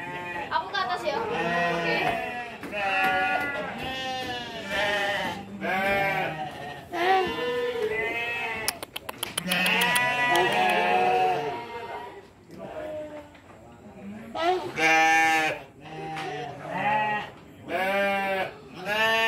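Newborn baby goats bleating, some born premature, with repeated close, loud, wavering cries that come in overlapping bursts and occasionally pause.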